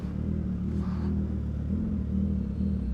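A motorcycle engine runs steadily at low idle while being parked, a continuous close rumble with slight rises in revs and no voices.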